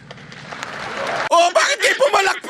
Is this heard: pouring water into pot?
no